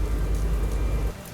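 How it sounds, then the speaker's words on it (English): Steady heavy rain pours down, a dense loud hiss with low rumbling beneath, dropping off sharply near the end to a quieter patter. "The rain washed over his face, but he couldn't look away."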